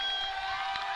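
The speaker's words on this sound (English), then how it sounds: "And this crowd very much into it now" Crowd noise at a high school football game, Eden Prairie at Lakeville North, a steady roar of cheering and shouting carried at a distance in a dense, sustained wash.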